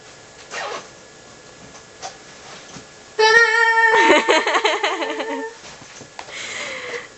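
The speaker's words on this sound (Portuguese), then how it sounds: "O problema é que o zíper não tá legal." A camping backpack's zipper being pulled closed: a loud rasping run of about two seconds with sharp metallic tones, following quieter rustling of the bag being packed. A few faint movement sounds come afterward.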